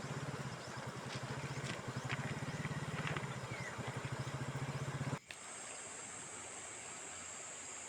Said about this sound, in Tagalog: ayan po yung ilog na isa dito sa Western Tarlac po. Ito po ay isang ano malaking ilog.